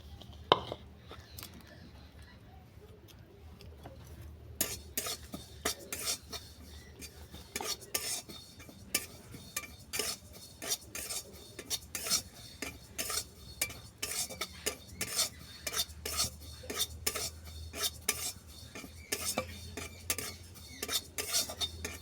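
Sesame seeds dry roasting in a pan are stirred briskly, giving dense, continuous scraping and rattling of a spoon against metal, close and fairly busy, with a brief quieter start before the stirring picks up.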